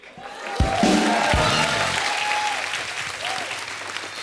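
A television comedy studio audience breaks into loud, sustained applause that swells quickly and then holds steady, with a few cheers mixed into the clapping.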